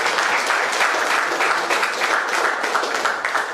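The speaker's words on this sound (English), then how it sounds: "Mr. Advocate Coutinho deserves a large applause from all of us." Audience at a Goa Pradesh Congress Committee event gives a sustained, loud round of applause, dense clapping lasting throughout without speech.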